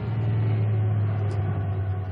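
Car engine in a film played on a moving 4D motion sofa, a steady low rumble holding evenly for about two seconds, no voices.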